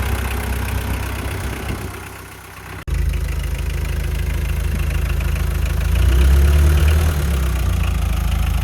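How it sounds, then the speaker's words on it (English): A Mitsubishi Delica L300 Starwagon 2.5L turbodiesel idling roughly with a misfire, loud and close, a steady low rumble with a brief dropout partway through and a slight rise in revs near the end. "It's misfiring"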